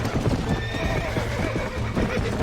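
A horse in the Red Dead Redemption 2 video game whinnies loudly over the steady clip-clop of hooves during a bronco-breaking scene, close and prominent, with no speech.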